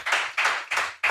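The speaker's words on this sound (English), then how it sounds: "they're clapping" A small live podcast audience at a downtown venue claps in four distinct, evenly spaced bursts, close and crisp, with no talking.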